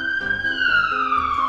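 An ambulance siren in the Sakura School Simulator video game wails loud and close, a steady rising-and-falling electronic tone that runs alone for a brief moment.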